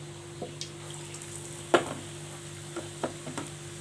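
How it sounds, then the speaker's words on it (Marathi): Papad bhaji fritters fry in hot oil until crisp, giving a steady close sizzle with a few soft clinks of stirring scattered over it. Nobody talks. "छान क्रिस्पी होतं तोपर्यंत मस्त इथे तळून घ्यायचे आहेत आपली भजी"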